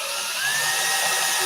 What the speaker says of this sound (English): How bad is that drill hole showing up in the sound?